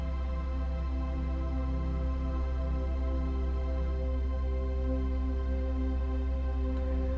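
A warm, sustained synth pad chord drones evenly for several seconds, its layered tones holding steady with no pauses or voices.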